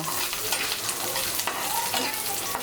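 Peeled garlic cloves fry in a pan over low heat for a garlic bhorta, giving a loud, continuous crackling sizzle with occasional stirring scrapes layered on top.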